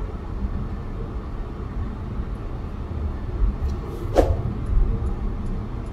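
A 2022 Mitsubishi Outlander, fitted with a new hood to stop hood flutter, cruises at about 60 mph. Steady road and wind rumble fills the cabin, with a brief passing whoosh partway through.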